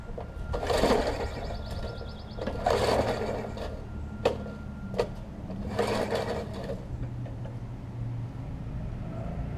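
A Murray 20-inch lawn mower engine with a stuck intake valve and no compression is cranked repeatedly, giving several loud, brief mechanical bursts with pauses in between, close and with no talk.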